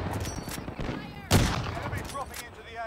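Gunfire in an online shooter video game, a loud burst of several shots around the middle with fainter shots scattered before and after, over a busy mix of game sounds.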